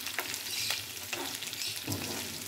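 Chicken pieces fry and sizzle steadily in a hot pan, a close, continuous crackle broken by a few stirring scrapes, with no voices.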